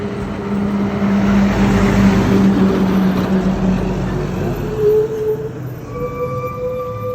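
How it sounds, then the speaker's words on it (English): A big truck rolls down a road past the listener, a loud steady engine drone and rumbling tire noise with a low tonal hum that slowly fades and shifts pitch as it moves away. "This sounds like a big truck."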